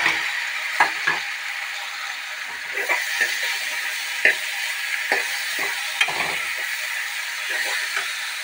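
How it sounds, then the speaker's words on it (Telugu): Carrot and beetroot sizzling in a pan after onions and tomato are added for a curry, a steady loud hiss broken by the clinks and scrapes of stirring, with no one talking. "ఇలా క్యారెట్, బీట్రూట్ బాగా ఫ్రై అయిన తర్వాత మనం ఆనియన్స్ అండ్ టమాటా కూడా వేసుకోవాలి"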